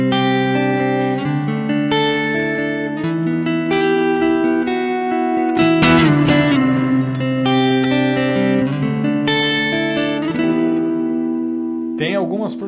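Electric guitar chords and single notes ring through a Caline Ragnarok reverb and delay pedal, each strum blooming into long washy tails and repeating echoes, loud and close and alone, ending in a swirling modulated swell.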